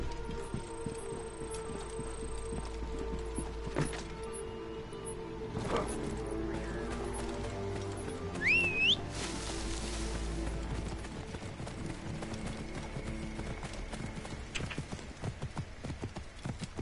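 Horse hooves clip-clop steadily in Assassin's Creed Origins, a quiet even rhythm under game ambience and music, with a brief whinny-like sound partway through.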